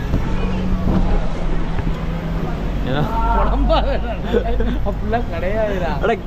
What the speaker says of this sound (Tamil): காற்று சு சுல்லுன்னு அடிக்கும் பார்த்தீங்களா